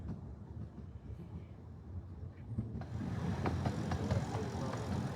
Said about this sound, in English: We're being hauled today by a locomotive called Perkins